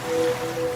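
Ocean waves wash steadily in a laundry detergent advertisement, a soft continuous surf hiss with a faint sustained tone, heard alone.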